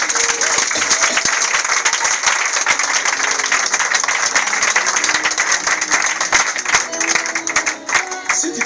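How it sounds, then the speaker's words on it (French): A church congregation at a prophet's consecration service applauds and cheers loudly, with dense, sustained clapping and crowd noise filling the whole stretch without a break. "Est-ce qu'on peut acclamer très fort ici?"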